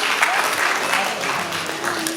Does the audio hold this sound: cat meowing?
no